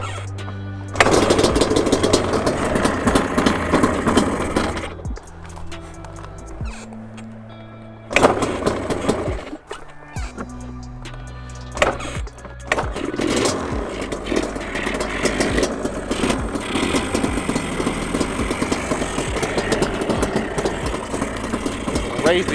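A Yamaha Banshee two-stroke engine runs at idle and revs during carburetor syncing, loud and close with uneven bursts and drops, speech mixed in.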